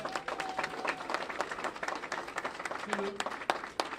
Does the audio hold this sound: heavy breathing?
no